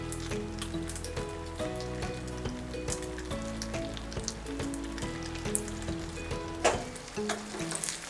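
Sauce added to chicken chowmein in a pan over a lowered flame sizzles steadily and closely, with intermittent stirring clatter and a sharper scrape near the end.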